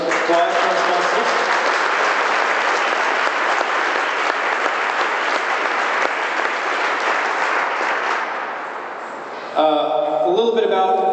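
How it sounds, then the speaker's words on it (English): A room full of people applauds sponsors at an event, sustained loud clapping that dips slightly before a voice cuts in near the end as the applause fades out. "I'd like to give a round of applause for our sponsors"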